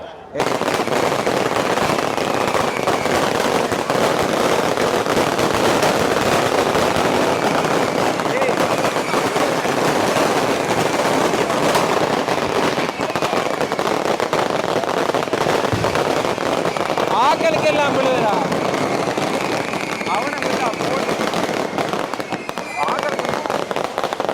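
Fireworks and firecrackers bursting in Jaffna, a dense continuous barrage of crackling pops and bangs over about twenty-four seconds, loud and close, with people talking and exclaiming throughout.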